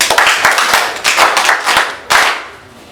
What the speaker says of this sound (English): May we clap for the Lord